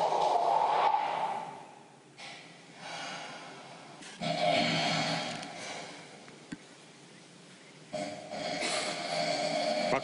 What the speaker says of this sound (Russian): Пока только храп слышен.